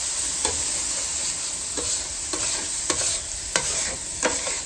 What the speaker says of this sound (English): So I'm just going to use this tool now and give it a good old scrape